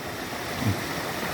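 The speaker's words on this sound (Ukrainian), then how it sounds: "Знову річка Матикова." A continuous, even wash of the Matekova river flowing nearby in the village of Syniak, Zakarpattia, with no voices.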